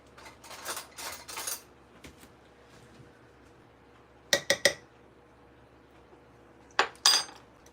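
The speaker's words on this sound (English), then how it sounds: "I'm gonna grab a spoon. I wanna give this a taste." A spoon clinks against dishes in a home kitchen during Mother's Day meal prep, in scattered short bursts of two or three bright taps separated by quiet pauses, close and moderately loud.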